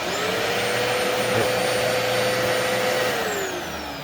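A Dyson DC04 upright vacuum cleaner runs steadily up close with a loud whirring motor whine and a rough rumbling brush roll underneath, easing slightly at the end.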